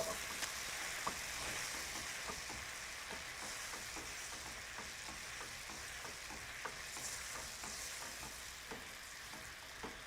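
Coconut milk poured into melting caramel in a pan makes a steady, close sizzle, with a soft continuous hiss and faint crackles and stirring clicks throughout, no voices.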